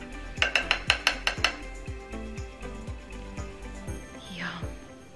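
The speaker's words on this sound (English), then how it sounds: "I'm just using a slotted spoon to get some of that excess tomato juice out" A metal slotted spoon clinks repeatedly against a pot while scooping sausage and peppers and draining off excess tomato juice, a quick run of sharp taps followed by softer scraping and knocks.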